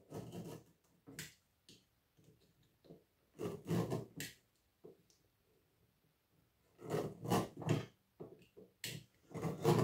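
A blade run down electrical copper wire to scrape off the insulation: bursts of rough rasping strokes, close and fairly quiet, with pauses between passes.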